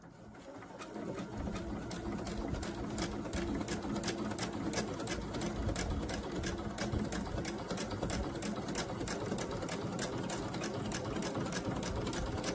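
Embroidery sewing machine stitching a messenger bag with a ruler foot, a rapid, even run of needle strokes that carries on steadily for the whole stretch at close range.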